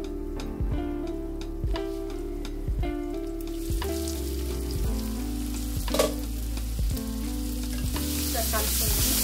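Garlic gravy fries in a pan with a steady sizzle and a soft repeated tapping as it is stirred, close and continuous, while light background music plays under it.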